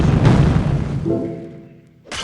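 A single booming gunshot in a video game hits hard and decays over about a second with a ringing tail, then another loud burst begins just before the end.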